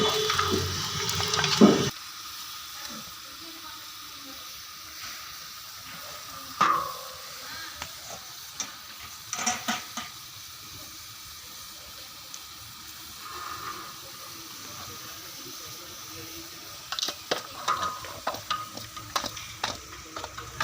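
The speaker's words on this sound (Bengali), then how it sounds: "পেঁয়াজের মধ্যে মটনটা আমি দিয়ে দেবো এই যে মটনটা এখানে ঢেলে দিলাম তেলের ওপরে দিয়ে এইভাবে নাড়াচাড়া করে করতে হবে" Mutton and onions in oil cook in a large pot with a low, wet sizzle under occasional heavy ladle scrapes and clanks as the meat is stirred.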